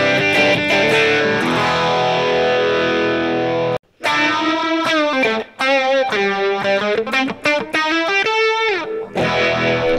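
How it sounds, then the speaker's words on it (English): Electric guitar runs through a phaser pedal placed before distortion, playing a sustained, sweeping lead line with bends, loud and saturated, with one brief dropout partway through. "A really awesome sound that you've probably heard a lot is a pedal phaser before a"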